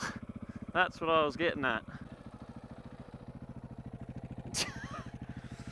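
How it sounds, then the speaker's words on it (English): A KTM 690 Enduro R motorcycle's single-cylinder engine idles steadily and close by, a fast regular thumping that runs under brief talk throughout. "can you hear that engine? That 690 beast?"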